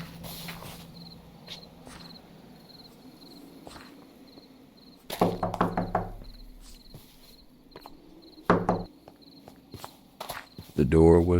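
Footsteps walking around a house in the video game Minecraft, soft steps over a quiet ambient bed with insect-like chirps, growing into louder clustered thuds near the end.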